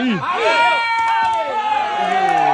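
Spectators at a close, tied-score sports match raise a loud, continuous cheer and shouting over a short stretch, with excited voices and whoops layered densely together.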